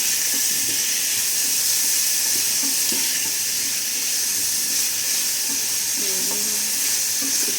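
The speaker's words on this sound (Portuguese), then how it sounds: "vamos adicionar uma cebola média picada já em cubinhos assim" Diced medium onion frying in a hot pan gives a loud, even, continuous sizzle and hiss with faint stirring scrapes underneath.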